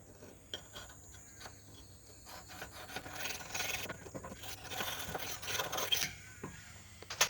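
A woodcarving knife blade is stroked across a sharpening surface, with repeated soft rasping scrapes that grow denser and louder toward the end, close and without talk.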